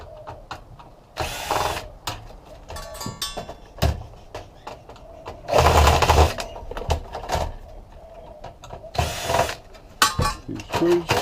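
A power screwdriver backs screws out of a PC motherboard during scrap recovery, giving several short whirring bursts separated by pauses, with handling clatter and quiet speech between them.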